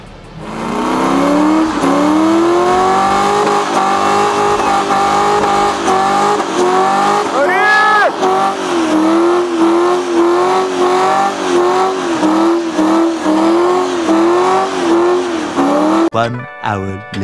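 A Ford Mustang spins its wheels while the engine revs hard and continuously, its pitch sweeping up and down, with a brief screech near the end. Voices can be heard over it.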